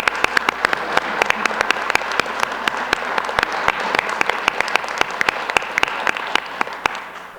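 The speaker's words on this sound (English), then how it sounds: "And if we can all give them a round of applause, I would greatly appreciate it." Steady applause from a town council meeting audience, many hands clapping in a dense, even patter with sharper individual claps standing out, sustained for several seconds at moderate loudness.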